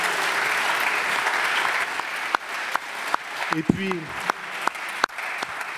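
Audience applause fills a lecture hall, a dense steady clapping that thins out toward the end while someone speaks over it with sharp taps and a brief voice cutting through.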